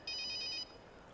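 Cell phone ringing with a bright, warbling electronic trill like an old Nokia, one short burst lasting about half a second, clear over a quiet room.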